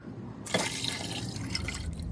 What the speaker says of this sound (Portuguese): E vou encher de água até cobrir